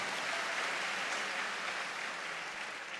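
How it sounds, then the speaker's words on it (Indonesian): An audience at an Indonesian national-identity lecture applauds for the Indonesian nation, producing a faint, even wash of clapping heard from a distance that holds steady throughout. "Tepuk tangan untuk bangsa Indonesia."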